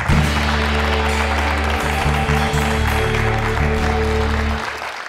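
A studio audience at a Slovak late-night talk show applauds steadily and loudly, a full, even wash of clapping that holds throughout and eases off at the very end.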